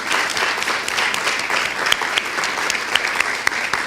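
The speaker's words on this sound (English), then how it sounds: "Cassie's in the back, and she deserves our applause." An audience at a civic fellows symposium bursts into sustained applause, dense clapping from many hands that stays loud and even throughout, with a few sharper claps standing out.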